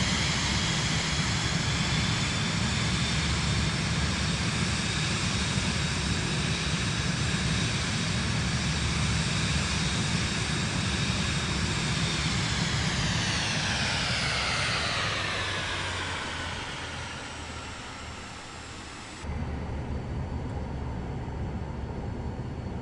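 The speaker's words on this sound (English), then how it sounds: "we're gonna go full throttle in our nice little private jet" A private jet's engines spool and roar at full throttle in Flight Simulator 2024, a loud steady whine with rising tonal layers that sweep downward near the end before an abrupt cut to a lower engine hum.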